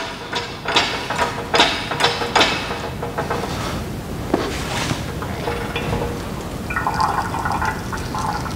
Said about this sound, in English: I will pump it and the piston is going down.